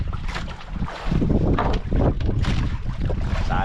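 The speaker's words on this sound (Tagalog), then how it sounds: "Medyo malakas ang hangin. Malakas ang hangin." Strong gusty wind buffets a small fishing boat at sea, loud roaring microphone-blasting gusts rising and falling continuously.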